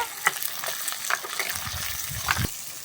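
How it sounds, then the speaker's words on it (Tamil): Finely chopped onions sauté in oil for a Chettinad-style fish curry, a moderate sizzle with a few quick stirring scrapes and clinks over a short stretch, with no talking. "வெங்காயம் நல்லா சுருண்டு வதங்கி வரட்டும்"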